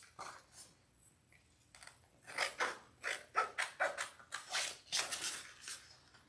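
Scissors snip out small Summer Minis paper pieces for a summer wooden popsicle craft, a quiet start giving way to a run of close, crisp cuts in quick uneven rhythm with no talking.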